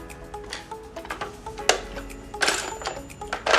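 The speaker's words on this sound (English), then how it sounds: "But there are some screws. Let me try unscrewing it." Screws being unscrewed from a kids' plastic toy phone, with a run of small ticks, clicks and scraping rattles from the screwdriver and plastic, close by and irregular.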